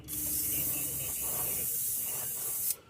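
A steady, close airbrush hiss sprays pearl white paint continuously for a few seconds, then cuts off abruptly near the end.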